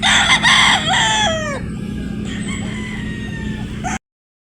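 A game-farm rooster crows once nearby, a loud, strained call that trails off, followed by quieter background hum.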